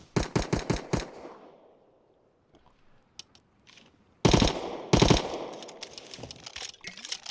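A prototype gun hip-fired in Rust Console lets off a rapid burst of five loud automatic shots, then after a quiet pause with faint clicks two more heavy bursts ring out, trailing into a noisy tail.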